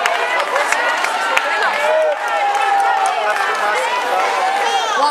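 A large crowd at a political rally applauds and cheers in a dense, continuous roar of clapping and raised voices that holds steady for several seconds without pause.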